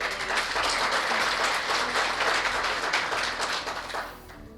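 Sustained applause from an audience after a singer's song performance at a formal gathering, steady dense clapping for about four seconds before fading out.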